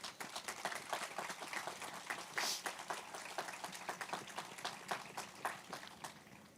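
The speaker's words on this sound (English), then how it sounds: "They deserve a round of applause." Applause from an audience at a high school graduation ceremony, steady dense clapping from many people heard at a distance and fairly quiet throughout.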